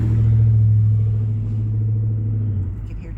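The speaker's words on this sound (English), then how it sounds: "you can hear traffic going by me." Road traffic passes steadily by a parking lot, a low continuous engine rumble swelling and fading as vehicles go by, fairly close and loud.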